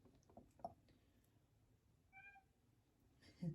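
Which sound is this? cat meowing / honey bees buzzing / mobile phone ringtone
cat meowing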